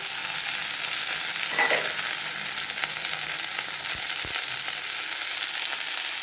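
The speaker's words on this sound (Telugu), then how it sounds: "ఈ వంకాయ ముక్కలను కూడా యాడ్ చేశాక వీటిని మగ్గనిద్దాం" Brinjal pieces sizzle steadily in a pan while being stirred, a constant hiss with a few faint scrapes and light knocks from the spoon.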